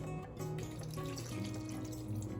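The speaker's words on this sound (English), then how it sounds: "Well, and then we slowly adding the water." Water poured slowly into zucchini pancake batter in a kitchen, a steady close trickling and splashing with faint humming tones in the background.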